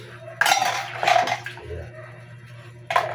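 Plates and cutlery clatter during dishwashing, with running water underneath and a few sharp clinks and scrapes of dishes knocking together at close range.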